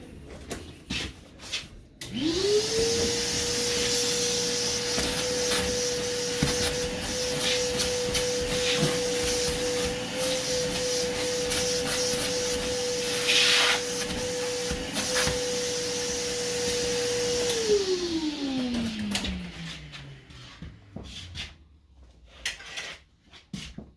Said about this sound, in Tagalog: Vacuum natin.